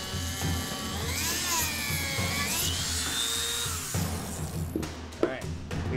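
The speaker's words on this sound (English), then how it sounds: "We're gonna use our trusty Dremel tool to drill a hole." Dremel rotary tool drilling a hole through metal while making a sword from gardening tools: a steady high whine that rises and falls in pitch as the bit bites, followed by a few sharp clicks and knocks near the end.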